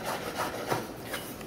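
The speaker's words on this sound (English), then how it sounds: "I'm slicing garlic here. You're gonna cut it thin, all the same size." A knife slices garlic thin on a cutting board, giving a close, continuous scraping and rubbing sound with a few soft, uneven strokes and no speech.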